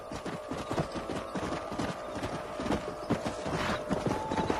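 Steady clip-clop of horse hooves at a brisk pace in the video game Red Dead Redemption 2, fairly close, with a faint mechanical rattle underneath and no talking.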